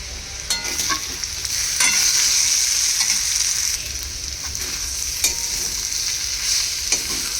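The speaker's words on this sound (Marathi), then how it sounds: "आपण परत एकदा भाजी जी आहे ती परतून घेऊयात" Sliced potato vegetable is stir-fried in a hot pan with a bright, continuous sizzle, punctuated by several sharp scrapes and clinks of the spatula as it is tossed.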